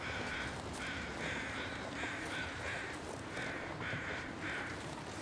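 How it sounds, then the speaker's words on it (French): Crows caw repeatedly in the snowy wilderness of The Long Dark, a run of about eight harsh calls in an uneven rhythm, moderately distant over a steady wind-like background hiss. "J'entends les corbeaux, mais je les vois pas."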